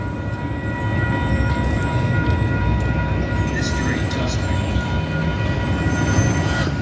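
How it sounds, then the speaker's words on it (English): An old train rumbling past nearby at the Calgary 17th Avenue expansion opening, with steady low roar and rolling wheel noise, with faint high squeals over the top. "There's an old train."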